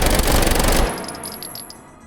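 A G18C pistol fires on full-auto in the VR shooting game H3VR, letting out a rapid, loud burst that lasts under a second before a ringing tail and the light clinks of ejected brass.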